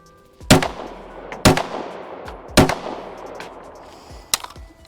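Springfield Echelon Comp pistol fired at a range target 30 yards away, four sharp, loud shots spaced about a second apart, each followed by a brief ringing decay, with no talking.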